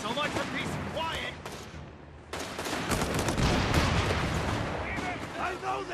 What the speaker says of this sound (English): I know they're shooting at us.